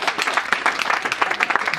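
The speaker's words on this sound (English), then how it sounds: "Round of applause." Audience applause in a comedy club, a dense steady wash of many hands clapping throughout, fairly loud and with no talk over it.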